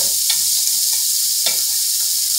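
Sliced calabresa sausage sizzles steadily in a hot pan for a Brazilian potato soup, with a couple of sharp scraping clicks as the pieces are spread and stirred; no talking.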